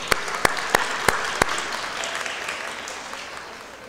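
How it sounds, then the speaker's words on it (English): Audience applause at an annual mosque fundraiser, opening with a few sharp distinct claps and then settling into a steady, moderately loud wash of clapping that slowly fades over a few seconds. "Give her a round of applause"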